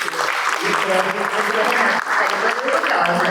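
Audience applause for Juliana fills the hall at a Senac lecture, dense, steady clapping from many hands that holds at full strength throughout.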